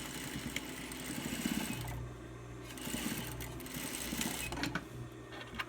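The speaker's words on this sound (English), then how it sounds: "sew those 2 front pieces together" A sewing machine stitches the two front pieces of a pinch-front cap together, running in close steady bursts with brief pauses and a rhythmic mechanical whir and clatter, with no talking.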